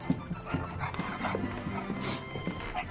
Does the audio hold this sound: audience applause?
no